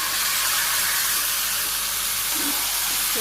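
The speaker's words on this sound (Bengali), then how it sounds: "এই যে পেঁয়াজ ভাজি করা হয়ে গেছে, মাংসগুলো দিয়ে দিই" Chicken pieces dropped into a pan of fried onions on a Bangladeshi village stove, giving a loud, steady broadband sizzle and hiss that holds evenly throughout with no pauses.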